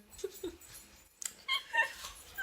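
A dog in a room lets out a few faint whimpers and short yips, spaced out and quiet, ending in a slightly brighter squeal near the close, without talk.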